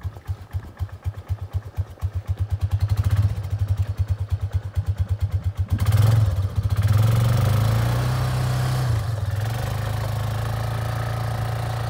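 A Yamaha Kodiak 400cc 4x4 quad engine plowing snow with a county plow: loud, close engine chugging in a rapid pulsing rhythm, then a steady rumbling drone as it revs and pushes on.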